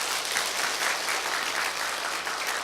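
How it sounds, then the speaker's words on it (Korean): A church congregation at a revival service in Korea claps together, a loud, dense and steady round of applause filling the room without talk. "우리 큰 박수 한번 해주십시오"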